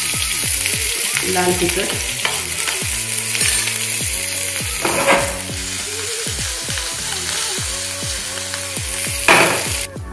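Cumin, green chilli and ginger fry in a pan of hot oil with a steady crackling sizzle, broken by a few louder bursts as the ingredients settle; a voice speaks briefly.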